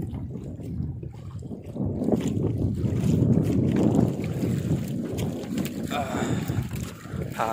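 Wind buffets the microphone in a low, steady rumble, with water sloshing around a small fishing boat on slightly choppy sea off Cebu.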